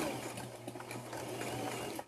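Sewing machine running steadily as it stitches fabric for a small earbud pouch near a zipper, a continuous low motor hum with light rhythmic clatter, close and moderately quiet, no talking.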